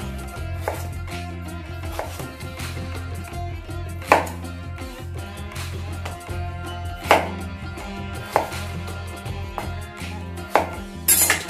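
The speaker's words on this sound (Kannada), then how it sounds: "ಇದನ್ನ ಸಹ ಅಷ್ಟೇ ಈ ರೀತಿ ಇದನ್ನ ವೆಜ್ಜಸ್ ಆಗಿ ಕಟ್ ಮಾಡ್ಕೊಳ್ಳೋಣ" A large potato being cut into wedges with a knife, with sharp, separate knife strikes on a board at irregular intervals over a steady low background hum.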